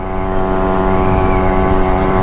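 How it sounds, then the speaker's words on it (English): A Yamaha YG-1 Trailmaster's 73cc rotary-valve two-stroke motorcycle engine runs steadily up close, a loud, continuous buzzing drone with no pauses. "It's actually a 73cc rotary valve engine."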